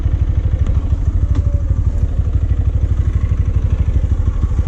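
A motorcycle engine that has run 30,000 km idles steadily, its close, even thumping overlaid with a rapid rhythmic knocking rattle throughout.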